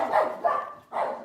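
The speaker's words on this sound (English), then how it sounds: "apologies for the dogs barking" Dogs barking indoors, three short, somewhat distant barks spaced across a brief moment with no talking.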